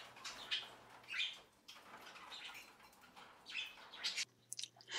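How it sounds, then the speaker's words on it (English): A pet Senegal parrot in a home with a cage gives repeated sharp chirps and short calls in separated bursts, fairly close and moderately loud, with brief quiet gaps between calls. "This is my Senegal Electra"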